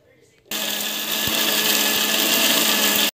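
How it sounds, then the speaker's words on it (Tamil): A kitchen mixer grinder grinding chutney starts abruptly after a brief moment of quiet, then runs with a loud, steady whirring roar until cutting off at the end. "மிக்ஸியில் போட்டுட்டு அரைச்சிக்கலாம்."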